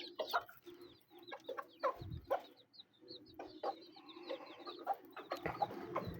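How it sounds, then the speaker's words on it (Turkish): Several hens cluck and chatter in short bursts, with occasional higher chirps from chicks, continuing steadily at close range. "civcivleri çıkarttı. Hemen bir bakalım ne yapıyorlar, ne ediyorlar."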